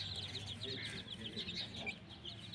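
Hens and chicks in a rural farmyard, where a mother hen feeds on grass alongside her baby chicks; soft, steady clucking and faint chick peeps continue throughout at close range, over a low background hum.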